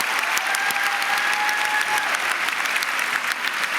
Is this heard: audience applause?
yes